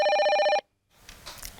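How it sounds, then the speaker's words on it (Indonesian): A telephone rings with a loud electronic trill for about half a second, then cuts off into near silence followed by faint background noise. "ini telepon buat order delivery"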